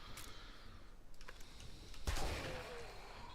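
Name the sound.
pipe shotgun firing in video game 7 Days to Die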